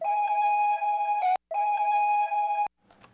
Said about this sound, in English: I'll take this first synth note, sounds like this